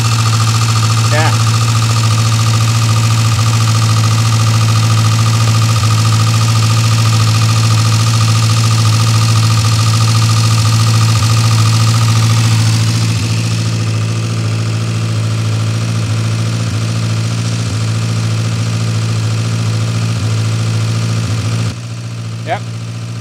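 An Austin/Morris van engine idling on its fuel pump, a steady loud low hum throughout that drops in level partway and cuts out briefly near the end, with voices talking over it.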